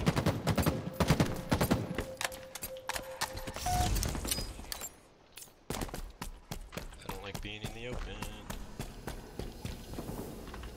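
Rapid bursts of gunfire from a Halo multiplayer match, sharp repeated shots clustered in the first seconds, dropping out briefly, then resuming in short volleys with footsteps and game effects.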